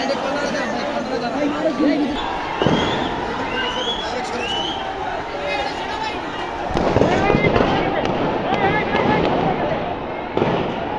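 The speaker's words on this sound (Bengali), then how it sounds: "পুলিশের টিয়ার সেল মেরে একে ফোর্টি সেভেনটা গুলি করতেছে" Sharp bangs of police gunfire and tear gas shells ring out at a street protest in Mirpur-10, several loud reports scattered through a constant roar of shouting crowd voices.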